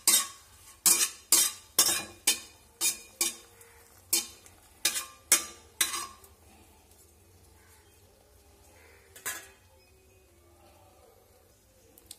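Dried red chillies dropped into hot mustard oil for kuler achar, a run of about a dozen sharp, regularly spaced clatters or crackles in the first six seconds, then quiet with a single faint burst later; no talk.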